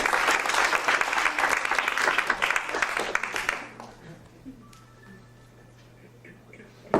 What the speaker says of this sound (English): a big round of applause for Kim